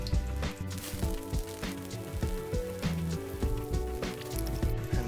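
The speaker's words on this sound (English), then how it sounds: "from there we will start frying the vadas." Scoops of vada batter fry in hot oil, giving a continuous hissing sizzle that runs beneath steady background music.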